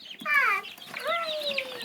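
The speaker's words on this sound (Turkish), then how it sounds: "Civciv, ördek." High, rapid peeping of chicks and ducklings, bright and close, a chorus of small birds chirping over each other with a few longer calls.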